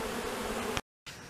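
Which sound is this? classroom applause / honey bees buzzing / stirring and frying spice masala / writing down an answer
honey bees buzzing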